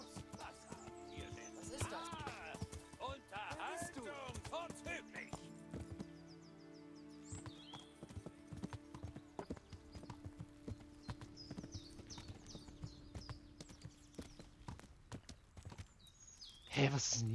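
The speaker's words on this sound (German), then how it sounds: "Gut, dann reiten wir erstmal ins Kloster zurück, ja?" Horse hooves clip-clop steadily while riding in the medieval role-playing game Kingdom Come: Deliverance, close and continuous, with voices talking over parts of it.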